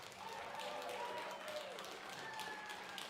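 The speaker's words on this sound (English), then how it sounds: "round of applause for all of our competitors" A crowd applauds competitors at a university Iron Chef cooking competition, a dense wash of clapping that runs steadily throughout at moderate distance, with faint voices and cheering mixed in.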